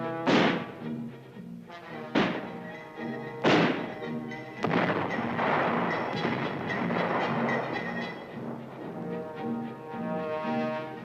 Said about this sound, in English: Mortar teams are drilled in exercises to set up and to sight in, plot, and fire the big 81mm U.S.